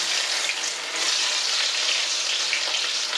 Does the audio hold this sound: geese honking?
no